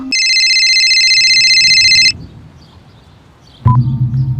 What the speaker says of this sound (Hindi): तभी मेरा फोन बजा।